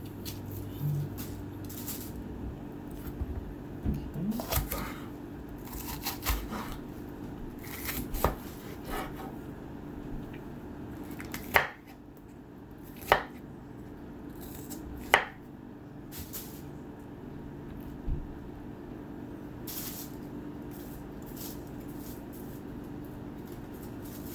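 A knife chops bell pepper, celery and onion on a cutting board for Southern-style chicken dressing, with irregular taps and scrapes, a few sharper knocks near the middle, close and moderately quiet.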